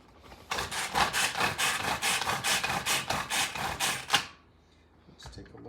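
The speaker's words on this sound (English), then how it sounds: "And we'll just chop this up." A knife chops potsticker filling seasoned with oyster sauce on a cutting board, a quick run of about a dozen rhythmic, close, crisp strikes that stops abruptly, followed by a faint tap.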